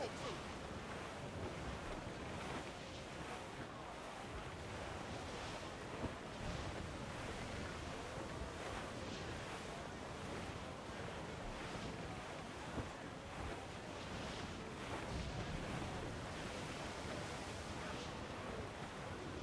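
Wind and crashing waves of a sea squall in Assassin's Creed: Black Flag, a steady dense roar of surf and gusting wind with faint shipboard sounds, continuous and loud throughout.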